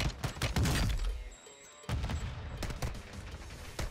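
Rapid gunfire bursts crackle from the video game Warzone 2.0, loud and close, in a dense volley, a brief pause, then another run of shots.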